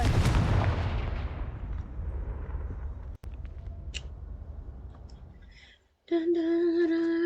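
Confringo blasting spell in the video game Hogwarts Legacy: a loud booming blast that rumbles and slowly decays over several seconds, a sharp crack midway, then a tonal game effect, no talk.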